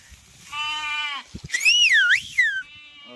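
A sheep bleats in a drawn-out, wavering call, followed by a higher, sliding bleat and a short trailing cry; loud and close, no talking.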